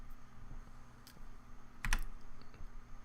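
Computer keyboard typing heard up close, a few sparse key clicks with one quick cluster of sharp strikes midway, quiet overall against a low background hum.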